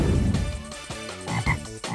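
Several frogs croak in a rapid, rough, repeated rhythm, loud and close, with no speech over them.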